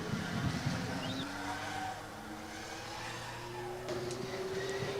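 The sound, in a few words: driverless Formula Student race car rolling up to start line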